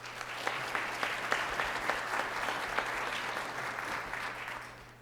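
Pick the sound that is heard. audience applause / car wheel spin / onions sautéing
audience applause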